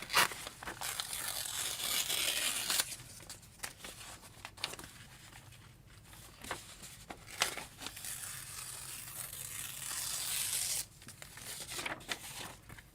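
Paper for a new journal being trimmed, with bursts of tearing and crinkling rustle alternating with quieter pauses, close and moderately loud, no talking.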